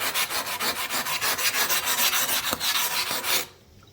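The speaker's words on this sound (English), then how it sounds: "you can scrub them away with the pumice stone" Pumice stone scrubbing a gas stove range: rapid, rhythmic gritty rasping strokes, close and loud, repeating steadily for about three seconds before stopping abruptly.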